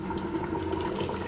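Chicken curry bubbles at a steady boil in a pot, a continuous close simmering rumble and gurgle with no pauses and nobody speaking.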